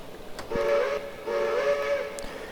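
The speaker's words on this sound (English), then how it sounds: "The short whistle burst." An RGS 4-6-0 steam locomotive in Train Simulator Classic gives two short, clear single-chime hooter blasts, close and loud over a low hiss.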